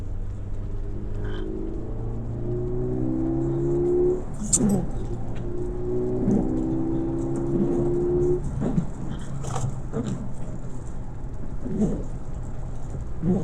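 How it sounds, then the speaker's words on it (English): A car engine drones from inside the cabin during a track day on a fast racing circuit. The pitch climbs through two acceleration runs, and scattered clicks and knocks sit over the steady hum. "it's just nice to drive your car on a circuit"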